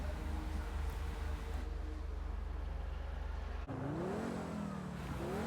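The Ubermacht Niobe in GTA Online revs hard, a sustained loud engine roar with a sudden shift in pitch partway through as it accelerates, close and continuous with no talk.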